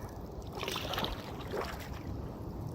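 Water sloshing and lapping around a small boat, with steady wind buffeting the microphone throughout.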